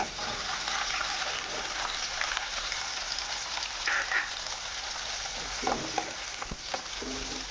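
Onion and garlic with cumin sizzle steadily in an oil-filled pan, a dense close frying hiss like rain with occasional faint clinks and stirring.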